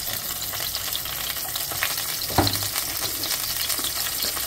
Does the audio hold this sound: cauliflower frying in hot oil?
yes